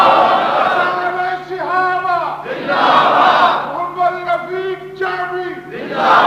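A large crowd gathered at a mosque chants slogans in loud unison, rising and falling in repeated waves of voices.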